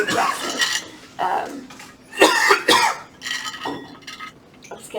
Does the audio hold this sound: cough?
yes